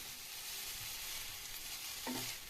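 Egg noodles are tossed and mixed in a pan with two spoons, giving a faint, soft sizzle with light scraping and one brief clink near the end, and no one talking.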